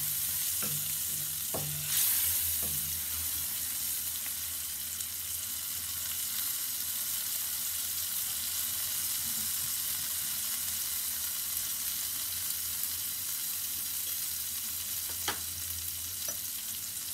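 Green chillies fry in hot oil in a pan for a Nepali dumpling sauce, a steady close sizzle running throughout with a few sharp scrapes and taps of the spoon as they are stirred, no talking.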